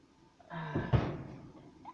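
An oven door in a home kitchen swings open with a short creaking, squeaky scrape that ends in a solid, close thunk as it drops into place, then a fading rattle; no talking over it.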